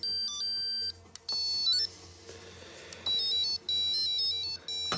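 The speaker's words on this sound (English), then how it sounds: "This unit was most notable for the music that it played." A GReddy GTT2 turbo timer plays its electronic intro song: a bright, beeping synthesized melody of short tonal notes separated by brief pauses, clear and close.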